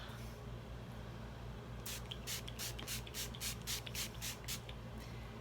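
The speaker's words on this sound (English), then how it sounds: "This is a thick sprayer, so you don't need a lot of sprays." Jordan Samuel Hydrate face mist from a thick sprayer, a quick series of about nine short, soft hissing spritzes in a steady rhythm, close but faint over a quiet room hum.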